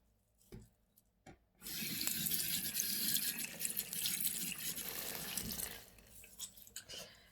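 Water runs steadily from a tap into a sink while a sponge is rinsed, a loud continuous splashing rush after a few brief knocks, then fading into scattered drips and handling sounds.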